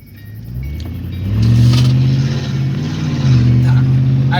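A car engine revving as the throttle is pressed, loud close rumble that climbs in pitch, holds high, dips briefly and rises again, with a voice partly underneath.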